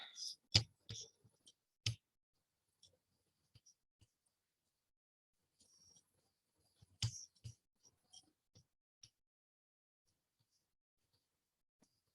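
Computer mouse clicks sound close and quiet, scattered single and double taps at irregular intervals with long silent gaps between them.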